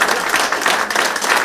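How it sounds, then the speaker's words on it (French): Audience members at a hospital thank-you event in Saint-Dié-des-Vosges clap together, a brief, close burst of dense applause with no one speaking. "on va applaudir ça quand même"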